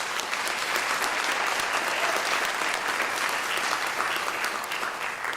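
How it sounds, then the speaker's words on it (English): A crowd at a university graduation ceremony applauds, steady sustained clapping from many hands filling the whole stretch without a break. "you deserve a round of applause"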